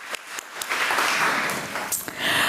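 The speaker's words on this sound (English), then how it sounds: "Let's give a round of applause" An audience at a school board meeting claps for a student, a broad, fairly loud spread of applause with a few sharper individual claps standing out, swelling again near the end.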